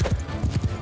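A horse gallops in Mount & Blade II: Bannerlord, a short burst of heavy, close hoofbeats in a quick rhythm with a faint whinny underneath.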